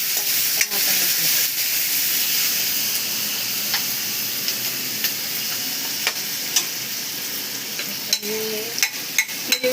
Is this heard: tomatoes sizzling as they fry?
yes